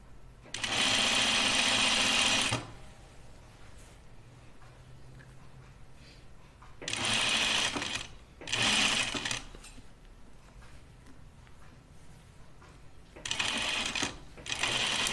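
A sewing machine runs in three bursts of steady, whirring stitching, a long run first and then two shorter spurts, with quiet pauses between them.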